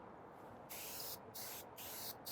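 A SureShot Atomizer auto detailing sprayer fires three short hissing bursts of fine mist in quick succession, close and crisp against faint background noise.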